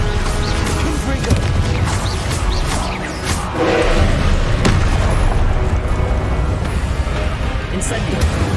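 A Confringo spell explosion in Hogwarts Legacy booms amid busy combat, with repeated blasts and crashing bursts over dense game noise and some voice activity throughout.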